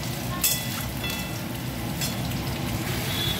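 Potatoes and carrots frying in a home kitchen pan, a steady hissing sizzle with crackle, continuous and fairly loud throughout, with a low rumbling hum beneath and no speech.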